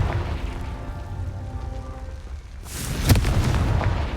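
A fire spell bursts into an explosion in the video game Hogwarts Legacy, a sudden loud boom with a sharp crack and a rumbling tail that rises out of a steady bed of in-game ambience.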